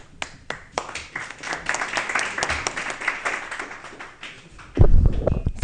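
Applause from a conference audience for a speaker about to present, a scatter of separate claps swelling into a steady moderate patter, then a sudden low thump near the end.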